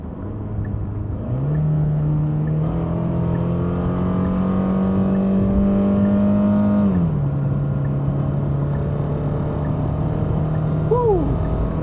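A Genesis G70 with a single-turbo engine accelerates hard: a loud, steady engine drone climbs in pitch and holds, then eases to a lower note near the end. A brief high chirp sounds at the close.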